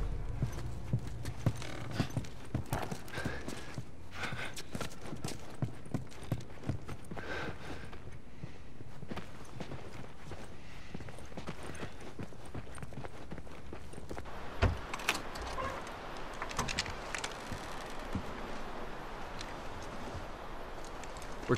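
Horse hooves clip-clop in a steady rhythm for a long stretch in The Last of Us Remastered video game, close and continuous, with some scuffing and rustling mixed in.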